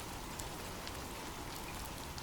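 Steady rain falls in an even, dense hiss, with faint patters of drops on a surface and no voices throughout.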